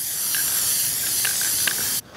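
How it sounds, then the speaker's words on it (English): A steady hiss of Varathane finish sprays from an aerosol can onto a piece of homemade micarta for a knife handle, continuous and close with a few faint clicks, then cutting off abruptly. "I'm going to spray this with some Varathane just to see what it's going to look like"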